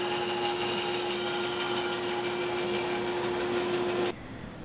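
A bandsaw cuts small wooden plugs free from a lumber blank in a woodshop, giving a steady, loud whining drone with a sustained high tone that stops abruptly near the end, leaving quieter room noise.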